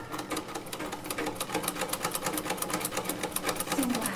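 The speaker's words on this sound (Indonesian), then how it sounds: "Mesin jahit." An electric sewing machine runs steadily, its needle producing a rapid, even mechanical stitching rhythm at moderate loudness throughout, with no talking over it.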